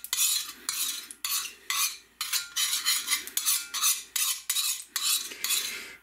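Repeated close scraping strokes of a utensil spreading oil across a hot pan, about a dozen quick rhythmic swipes with short pauses between them, and no talking.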